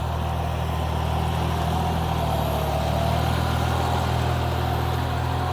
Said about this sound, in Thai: คันนี้เป็นเครื่องยนต์3สูบค่ะ3สูบ